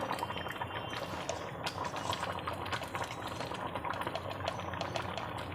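Bengali bhoger khichuri of Gobindobhog rice simmering in a pot, a continuous close bubbling and sizzling with dense popping throughout.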